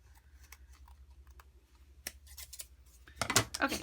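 Blade trimming paper for a handmade fall pop-up card, heard as a few short crisp snips and scrapes close by, with a denser cluster of cuts near the end over a low steady hum.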